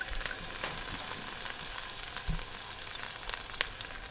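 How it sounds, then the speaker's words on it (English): Anchovies melting in hot oil in a pan for St. Joseph's Day pasta give a steady, fine sizzle and crackle with a few faint stirring clicks, close and fairly quiet, with no voices. "So we gotta melt that anchovy really, really good."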